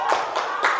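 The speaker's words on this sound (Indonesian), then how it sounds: "Tepuk tangan untuk kita semua ya." Classroom students clapping together after group presentations, a quick burst of hand claps with a couple of distinct louder slaps, close and brief.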